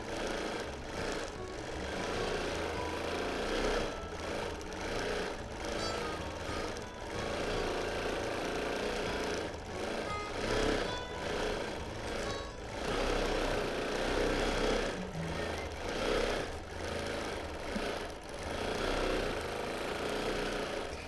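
A quilting machine runs steadily through free-motion edge-to-edge quilting, a continuous mechanical whir with a rapid stitching pulse that holds close and even for the whole stretch.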